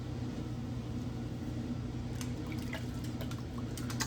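Water trickles and drips while a razor is rinsed after a shave, with a constant running-water wash and brighter splashy drips picking up in the second half, close by.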